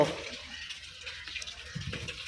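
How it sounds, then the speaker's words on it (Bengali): Water runs steadily to irrigate eggplant seedlings in an outdoor plot, a soft continuous flow with brief faint voices near the end. "ও চারার মধ্যে পানি দেওয়ার জন্য"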